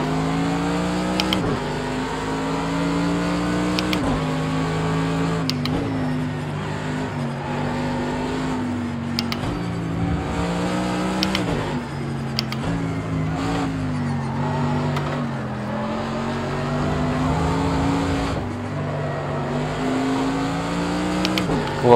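A race car engine in the Project Cars 2 video game drones loudly and continuously, its pitch rising through each gear and dropping at every shift, with tyre sounds and no talk.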